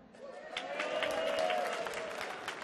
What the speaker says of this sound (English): you will clap and cheer for Harold